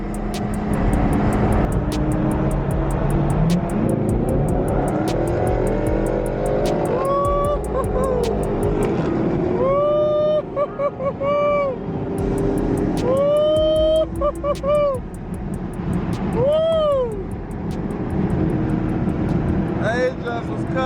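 Dodge Challenger SRT Hellcat Redeye at a street race after a car meet, engine roaring continuously under hard acceleration with rising whine, heavy crowd talk and shouting over it.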